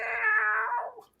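A cat lets out a single loud, drawn-out caterwauling wail at night, rising then sagging as it fades, heard close and alone with a faint click at the end.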